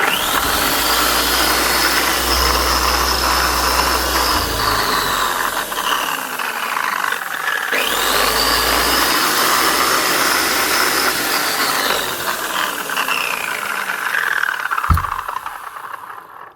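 A Smartool dual-head power polisher with two new bearings runs steadily with a whirring motor and rising and falling whine, spinning up twice, loud and close, with no speech.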